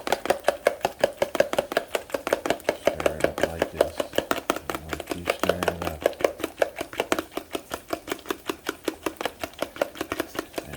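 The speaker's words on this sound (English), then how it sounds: "Then you want to stir it up again till you get it all in, stir it up." Whisk or fork beating egg and milk with cinnamon in a bowl for French toast, a fast, steady rhythmic tapping and clinking against the bowl, close and continuous without talk.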